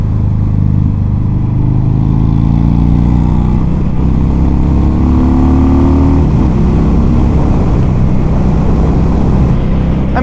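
A 2019 Harley-Davidson Fat Bob 114 motorcycle riding on an open road, its deep V-twin engine rumbling loud and close, rising steadily in pitch as it accelerates, with wind rush and no talk.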